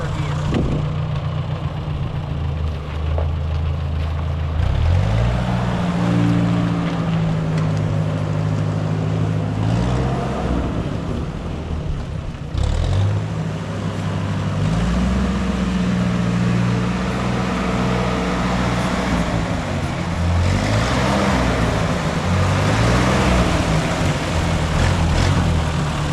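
Ford 9N tractor engine chugging in first gear, a steady low-pitched running rumble with rising and falling pitch shifts as it works, close and continuous with no clear talking.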